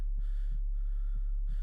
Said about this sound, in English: You hear your faint heart beating